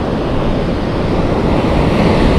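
Ocean waves and surf roar in a steady, loud wash with heavy wind noise and no clear breaks between waves.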